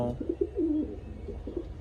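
Pigeons coo softly and repeatedly close by, a run of low burbling calls in quick succession.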